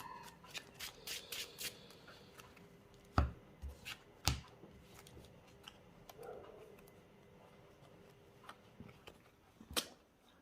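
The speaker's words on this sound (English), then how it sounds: "Shuffle your deck." Soft, rapid riffling of a Yu-Gi-Oh! card deck in short bursts, with a few sharper taps and clicks between them, quiet and close.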